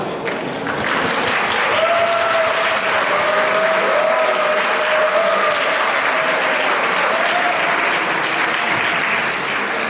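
Steady, loud applause from wedding guests in a convention hall as the ceremony begins, with a sustained musical tone weaving underneath the clapping throughout.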